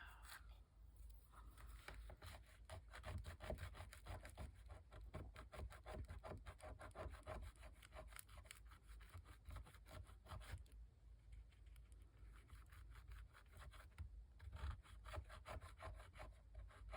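Steady dry rubbing of paper over a stamp, a continuous scratchy friction of quick repeated strokes that carries on throughout at close range with no talking.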